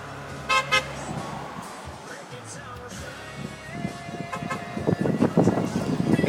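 Car horns toot in two quick, loud blasts near the start, then traffic rumbles on with more scattered honks building toward the end. Faint voices sit underneath.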